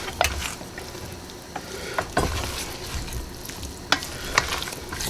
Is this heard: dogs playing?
no